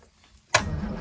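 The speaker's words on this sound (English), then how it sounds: "Oh, that's turning over. So we've got a starter motor." A Land Rover Series 2A engine turns over on its starter motor, a sudden loud mechanical burst that begins after a quiet stretch and continues as a steady cranking rumble.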